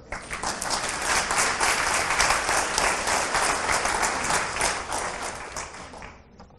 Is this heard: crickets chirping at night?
no